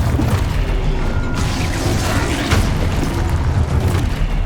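The Expulso explosion spell in Hogwarts Legacy roars as one dense, loud booming blast with crashing rumble that fills the whole moment.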